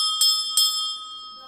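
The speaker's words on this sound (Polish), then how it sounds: "Pierwszy dzwonek zabrzmi 2 września." A school bell rings with two quick bright metallic strikes, each leaving a sustained ringing tone that fades slowly after the second hit.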